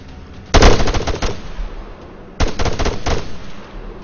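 Automatic rifle gunfire from the video game Arma 3 rings out in two loud, rapid bursts of several shots each, separated by a short pause, with no talking.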